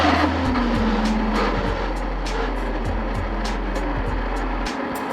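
Worn electric motors of a Power Wheels Dynacraft Dune Racer, a child's ride-on fitted with 550-size high-RPM motors and a DeWalt 20V drill battery, run with a steady, loud whine and rough gear buzz, alone without talk.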